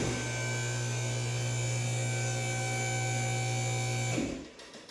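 An automotive vehicle lift raises a car for a preventive maintenance inspection, a steady loud electric-motor hum with a strong low drone that cuts off near the end.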